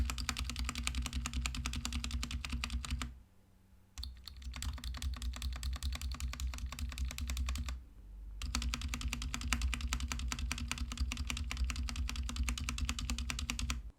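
Steady rapid typing on a BlitzWolf BW-KB1 compact 60% Bluetooth mechanical keyboard with looped stabilizers, dense clacking keystrokes with two brief pauses, close and loud, no talking.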